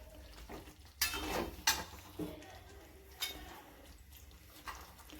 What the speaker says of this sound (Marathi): तर याला फोडणीमध्ये असं छान मिक्स करून घ्यायचं आहे.